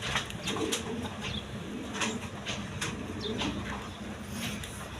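A pair of Jacobin pigeons at a farm coo softly and repeatedly amid a busy, noisy background with scattered chirps and occasional wing flutters, the calls fairly faint.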